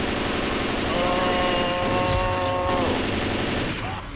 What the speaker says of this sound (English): Yes, I was the one shooting at it.